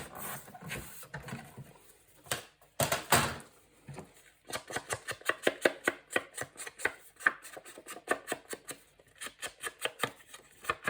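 Mini book material is cut to size with a run of quick, close, repeated chopping and slicing strokes, grouped in bursts after a few louder scuffs and handling knocks, without talking.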